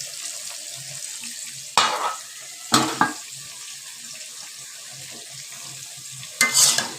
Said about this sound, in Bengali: তেলাপিয়া মাছটা আমি ভেজে নিচ্ছি